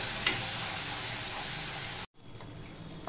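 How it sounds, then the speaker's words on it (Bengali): Spice paste with ginger and a splash of water sizzling in a pan for a vegetarian jackfruit kofta curry, a steady close frying hiss that cuts off abruptly and then returns faintly. "মশলাটা পুড়ে যাবে, তাই জন্য একটু জল দিয়ে দিলাম, দিয়ে আমি এটা কষিয়ে নেব।"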